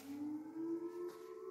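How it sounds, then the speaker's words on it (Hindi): A civil defense style siren sounds for the start of the Ramadan fast at sehri time, a steady sustained wail that holds one pitch throughout at moderate loudness, heard alone without talk. "देखिए सायरन बज रहे हैं कि रोजे का टाइम हो गया"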